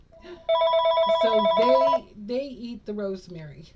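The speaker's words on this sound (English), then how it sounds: "I'm so sorry that the phone's ringing" A telephone rings indoors with an electronic, warbling ring tone for about a second and a half while someone talks over and after it.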